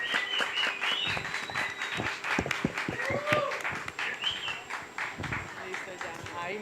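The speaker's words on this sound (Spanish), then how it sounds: "que se sienta el aplauso" A festival audience at a Necoclí film event claps in a loose burst of sharp hand claps, with voices and cheering mixed in, before the clapping thins and fades.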